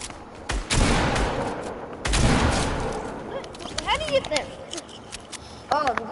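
Fortnite shotgun blasts in a game round, two heavy booming shots a little over a second apart, each with a long rumbling tail, followed by scattered lighter effects while people talk over the action.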